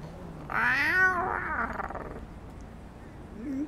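A cat in the video game GTA 5 lets out one drawn-out, wavering meow that rises and falls over about a second and a half, close and fairly loud, with a faint short sound near the end.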